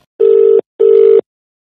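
Phone ringback tone on a Telugu TV show: two long steady beeps, each about half a second with a short gap between, clear and alone with no talk.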